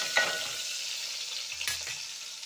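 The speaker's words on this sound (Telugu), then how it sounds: "సో ఆనియన్స్ని కొద్దిగా ఫ్రై అవ్వనివ్వాలి" Onions frying in a pan for a cauliflower curry, a steady soft sizzle with a couple of scraping stirs, fairly close and with no talking.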